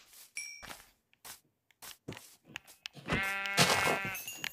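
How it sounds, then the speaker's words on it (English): Sheep bleat in Minecraft, a few short game bleats amid footsteps and scattered sounds, then one louder, drawn-out bleat near the end. "More sheep."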